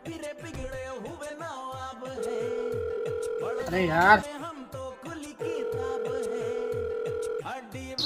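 A phone's ringback tone purrs in two long steady bursts over busy background music, with someone briefly speaking between them.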